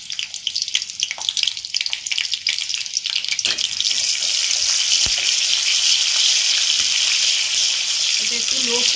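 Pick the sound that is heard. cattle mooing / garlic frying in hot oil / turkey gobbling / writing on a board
garlic frying in hot oil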